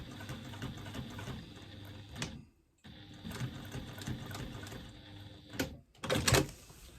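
A sewing machine stitches a strap connector onto foam in two steady mechanical runs. A short pause comes between them, and a brief clatter sounds near the end.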